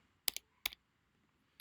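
Two sharp keystrokes on a computer keyboard, close and crisp, then a pause and a fainter third tap, all in near silence.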